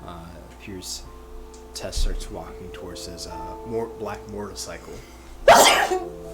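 One sharp sneeze bursts out near the end, loud and close, after a stretch of steady talking by someone narrating a tabletop role-playing game.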